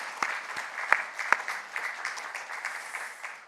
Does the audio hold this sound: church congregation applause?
yes